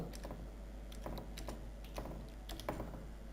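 Typing on a computer keyboard while filling in an Excel invoice: quiet, close key clicks come in short irregular bursts over a low steady hum.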